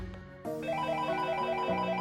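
A phone ringtone breaks in after a brief quiet moment and plays a repeating electronic melody, steady and fairly loud, with no talking.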